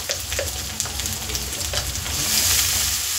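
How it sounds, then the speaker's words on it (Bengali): Chopped onions with a pinch of salt fry in a pan, giving a steady close sizzle with small crackles and stirring clinks, swelling louder toward the end. "তো পেঁয়াজটা লাল হয়ে ভাজা হতে থাকো"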